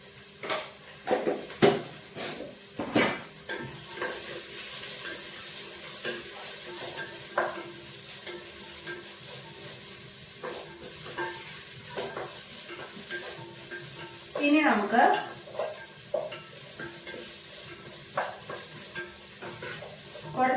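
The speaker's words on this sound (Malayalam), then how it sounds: "ഇതിൽ കുറച്ച് ഉപ്പ് ചേർത്തിട്ട് വഴറ്റാം" Mutton pieces sautéing with salt in a pan give a steady sizzle, broken by scraping stirs and occasional clatter against the pan, with a faint voice now and then.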